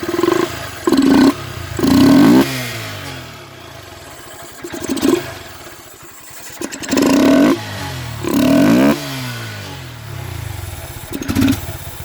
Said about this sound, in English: This is what it sounds like with the K&N air intake on it